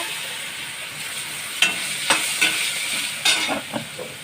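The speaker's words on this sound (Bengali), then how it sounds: "এবার আলুগুলো ভাজতে দেবো" Potatoes fry in a kadai over a cumin, dried red chilli and panch phoron tempering. A loud, steady sizzle is broken by a few sharp stirring scrapes, with no one speaking.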